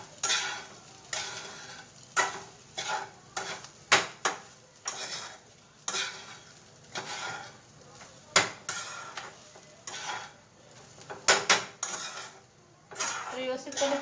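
Rice being stir-fried in a pan for fried rice, with repeated metal spatula scrapes and clinks against the pan in an irregular rhythm over a faint sizzle, close and fairly loud.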